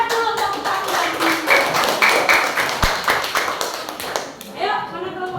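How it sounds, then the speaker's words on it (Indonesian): A classroom of students gives a burst of rapid applause, steady clapping that continues for several seconds, mixed with a teacher's voice and chatter. "Beri semangat dulu tepuk tangan."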